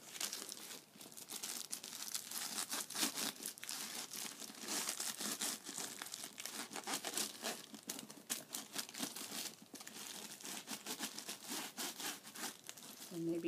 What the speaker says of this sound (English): maybe just rub it on the zipper.